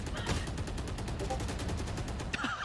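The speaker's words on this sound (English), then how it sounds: "Pauses, just letting the bullets whiz by." Gunfire in a Valorant esports grand final match, dense rapid shots crackling steadily under crowd noise and commentary.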